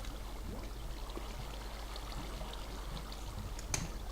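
Flowing water in Minecraft makes a soft, continuous trickling stream, faint and steady, with a few small splashy blips and one brighter click near the end.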